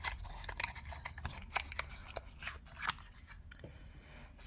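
A tight cardboard nail polish box is worked open, giving a rapid series of close crisp scrapes, rubs and papery crinkles that thin out toward the end, with no one talking.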